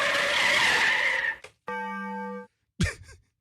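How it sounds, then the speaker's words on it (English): A car sound effect: a long skid of screeching tires, then a short pause, a sustained tonal squeal or horn-like blare, and a final hard crash impact, all brief and loud. "When you have a crash in a Taco Bell parking lot, it sounds more like this."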